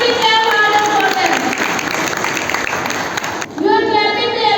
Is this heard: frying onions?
no